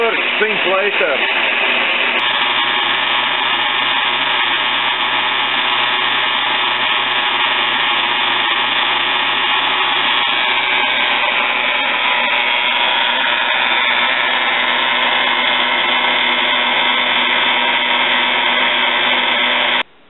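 Metal saw parting off an aluminium piece in a workshop, a steady loud mechanical whine and grinding hum running continuously for about twenty seconds with no pauses.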